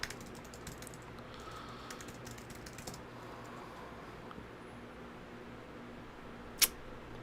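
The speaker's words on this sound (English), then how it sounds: "I'm typing away on the other screen" Faint clicking of a computer keyboard as someone types during a coding session, sitting low under a steady background hiss.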